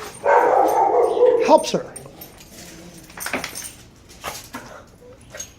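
An assertive dog gives a loud whining, whimpering cry up front, then a few shorter barks and yips follow amid jangling and a person talking nearby.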